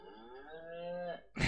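A single cow moos in a long, clear, close low call, followed by a short burst of noise.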